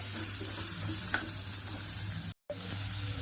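Potatoes are stirred into a sizzling pan of dosa filling. A soft, steady frying hiss continues throughout, with a faint scrape of the spoon and a brief dropout near the end.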